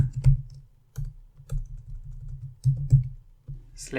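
Keys clatter on a computer keyboard during Power BI work, a run of close, crisp clicks in uneven bursts with short pauses between, alone with no talk.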